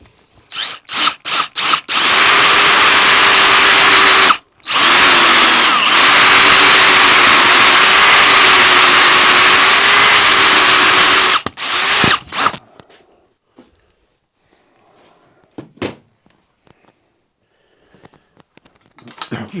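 A homemade one-off cutter machining metal, loud whine of the running machine with a few short bursts at the start, then a long continuous cutting run with a brief gap before it stops and falls quiet.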